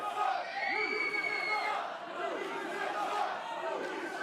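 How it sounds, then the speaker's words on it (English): A wrestling crowd at an Inspire Pro event jeers and shouts at Ryan Davidson, a loud, continuous mass of boos, yells and whoops close around. "You can hear the Inspire Pro crowd giving Ryan Davidson the business."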